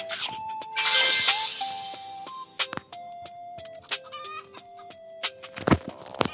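Cartoonish chicken clucks and chirpy tones sound from the video game Grow a Chicken, with a run of short close calls and jingles over a quiet background.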